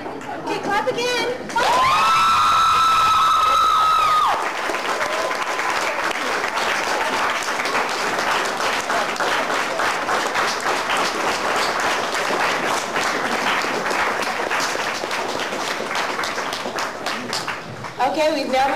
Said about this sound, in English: Okay, clap again.